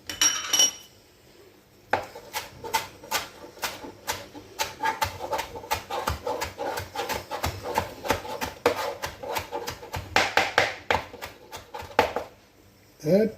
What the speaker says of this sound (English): Let me chop up the cilantro.